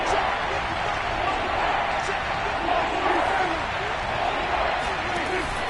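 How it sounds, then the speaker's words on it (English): Football stadium crowd during an NFL game between the Cowboys and Washington, building before a big third down: a steady, dense roar of many voices filling the whole stretch, fairly loud and even, with no single voice standing out. "The crowd getting into it as we come up on a big 3rd down."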